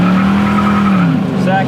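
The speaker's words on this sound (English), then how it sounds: "All right, we're gonna go through the gears. We got it down in first" A 1969 Camaro pulls hard in first gear, its loud steady engine drone rising in pitch close up, with a brief shift-like dip near the end and what sounds like tire noise underneath.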